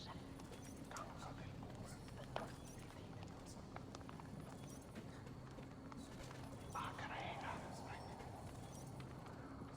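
A horse's hooves clip-clop quietly in Assassin's Creed Valhalla, a soft, rhythmic patter under faint speech and background game ambience.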